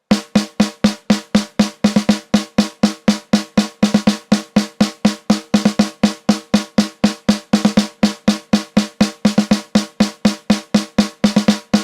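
Rapid, even single strokes on one drum, with a quick double stroke placed in roughly one of every eight hits in a steady stream, loud and close with no voices.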